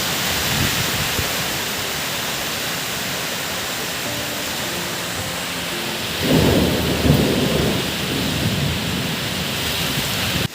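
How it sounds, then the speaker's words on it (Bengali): Heavy cyclone rain pours steadily amid strong wind, and a deep roll of thunder swells midway through before fading back into the constant downpour. "যেমন জোরে ঝড় হচ্ছে তেমন জোরে বৃষ্টি হচ্ছে"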